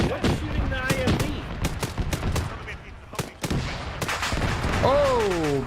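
Rapid bursts of gunfire aimed at an infantry fighting vehicle in the military video game Arma, cracking in sharp irregular volleys alongside engine whine and tonal effects, with players talking over the action.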